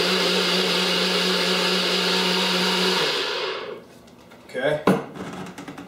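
A blender whirs steadily while mixing bulletproof coffee, then spins down and stops, followed by a couple of brief clunks.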